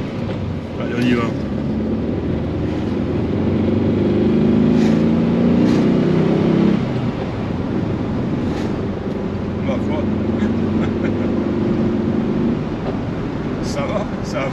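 A 1977 VW Beetle cabriolet pulls along a road, its air-cooled engine droning steadily with a low buzzing note that swells under acceleration, while someone talks over it from inside the car.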